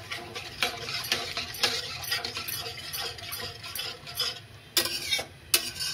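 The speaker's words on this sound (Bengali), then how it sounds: "পটল পোস্তটা একটু মাখা মাখাই করতে হবে।" Poppy seed paste thinned with a little water is stirred in a pan with a utensil, making repeated scraping and tapping strokes with a faint sizzle underneath, close and moderately quiet, with no talking.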